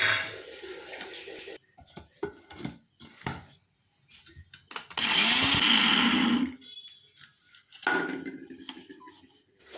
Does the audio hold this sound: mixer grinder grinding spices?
yes